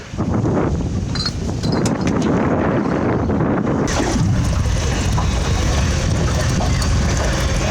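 A motor boat travels across Basivkut lake, its engine drone and water rush heard up close. Heavy wind buffets the microphone the whole time, and no one speaks.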